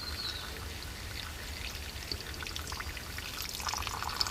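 Water trickling and pouring steadily from a homemade bushcraft filter into a pot outdoors in the Australian bush, a continuous soft splashing stream with small drips over low background noise.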